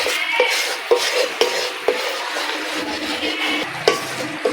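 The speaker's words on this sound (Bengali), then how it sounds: "ঝাল লঙ্কা গুঁড়ো দিলাম 1 চামচ, মশলাটা নেড়ে ভেজে নেব" Spice paste with a spoonful of hot chili powder stirred and fried in a pan for chicken chap, soft sizzling under regular clinking strokes of a spoon against the pan, without speech.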